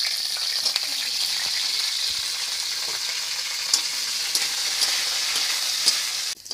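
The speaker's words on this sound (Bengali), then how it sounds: "এবার সবজিগুলো, ফুলকপিগুলো তেলের উপরে আমি ভেজে নেব ভালো করে।" Cauliflower fries in hot oil in a wok, giving a steady bright sizzle with occasional stirring clicks and pops that ends in a sharp clatter.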